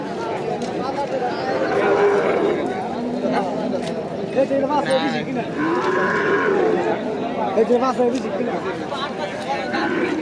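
Cattle lowing at the Merenga cattle market in Nandail, Mymensingh, several drawn-out moos rising over a busy crowd of chattering voices, fairly close and loud.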